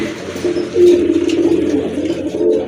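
A pair of pure white Kagzi pigeons coos in a low, steady, murmuring run that stays close and fairly loud from start to finish, swelling slightly near the middle and again at the end, with no talking over it.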